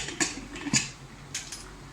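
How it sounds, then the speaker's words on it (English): Light metallic clinks and clatters as a lid is handled and set on a pressure cooker, a few separate taps spread over two seconds, fairly quiet. "Now I'm putting the lid"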